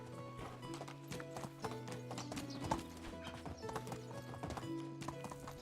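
Horse hooves clip-clop at a steady trot in the game Medieval Dynasty, a crisp, continuous rhythm of close hoofbeats over a low tonal game background.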